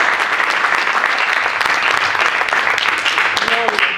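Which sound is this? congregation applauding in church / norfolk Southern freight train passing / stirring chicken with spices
congregation applauding in church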